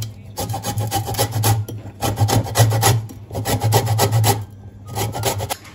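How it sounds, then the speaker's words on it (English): Lemons zested on a grater, rhythmic bursts of rasping strokes in four close, loud runs separated by short pauses. "I'm going to zest 3 lemons to add in"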